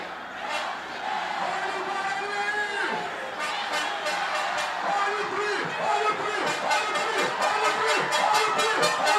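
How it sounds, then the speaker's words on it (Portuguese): Guarani football fans cheer and chant outside the stadium, a loud, dense crowd roar with rhythmic shouted bursts that hold steady throughout. "Olha só o barulho da torcida Raí."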